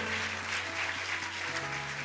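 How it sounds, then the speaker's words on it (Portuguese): A church congregation claps steadily in a dense, distant-sounding wash of applause, with a low sustained tone beneath it throughout. "Vamos aplaudir a Jesus pela vida deles"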